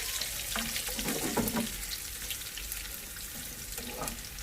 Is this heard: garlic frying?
yes